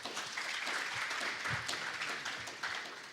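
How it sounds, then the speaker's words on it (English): Steady audience applause for a panel at a plenary session on building resilient economies in Africa, a dense wash of clapping from a sizeable crowd throughout, fairly even in level. "Please give our panel a warm round of applause."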